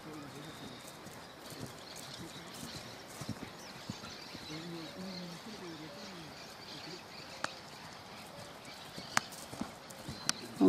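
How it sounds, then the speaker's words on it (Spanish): A young, very tame lobuno overo colt gallops at an easy, relaxed pace, its faint rhythmic hoofbeats repeating steadily under outdoor ambience with occasional birds and someone speaking. "Galope serenito, galope cómodo."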